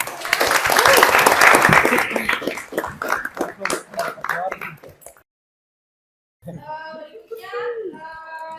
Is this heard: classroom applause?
yes